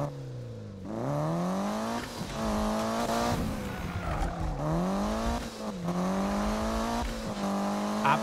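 A Mitsubishi Evo driving in Need for Speed (2015) holds a steady, loud engine drone whose pitch rises and falls with gear changes and revving, plus occasional tire noise, continuous throughout.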